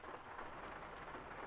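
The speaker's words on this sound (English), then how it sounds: "Maybe it's the rain that's loud." Rain in the video game Euro Truck Simulator 2 falls on a Volvo FH Sleeper truck as a soft, even hiss, faint and steady throughout.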